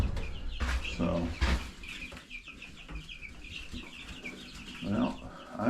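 Young Freedom Ranger broiler chickens, about two and a half weeks old, clucking and peeping in a chicken tractor outdoors, with repeated chirps and a few louder calls over a steady background.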